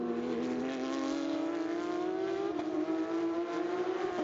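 Porsche Carrera Cup race cars run through a chicane, their engines whining in rising pitch as they accelerate, steady and fairly loud with a few brief shifts and overlapping cars.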